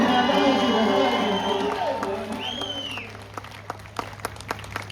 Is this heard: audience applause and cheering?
yes